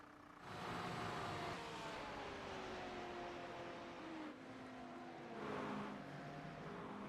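McLaren race car in the iRacing simulator during IMSA Daytona 24 testing, its engine droning steadily with rising and falling pitch sweeps as it shifts through gears, loud and continuous with no talk.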